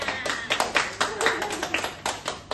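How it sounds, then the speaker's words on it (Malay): Children clap together in a scattered burst of quick claps, fairly close, with some voices mixed in. "Okey, beri tepukan kepada Nisrina."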